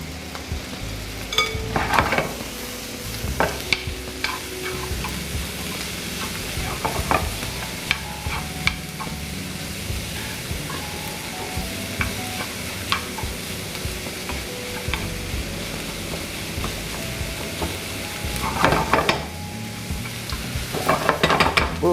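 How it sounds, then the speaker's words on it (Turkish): Vegetables with garlic frying in a pan while being stirred, a steady close sizzle with scraping and occasional clinks of utensil against the pan; no talking. "Bunların da beraber pişmesini sağlayacağız şimdi. Güzelce karıştırarak."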